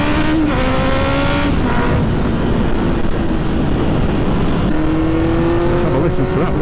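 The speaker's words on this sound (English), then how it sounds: "Let's go for a little ride and hear this extremely loud exhaust." A Honda CB650R motorcycle fitted with a loud Black Widow exhaust revs and pulls away on a gravel road. The engine note climbs and falls steadily, with wind noise running throughout.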